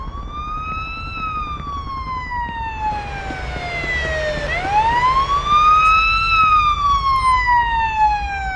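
An ambulance siren wails loudly nearby, its pitch sweeping slowly down and then back up, over the low rumble of traffic.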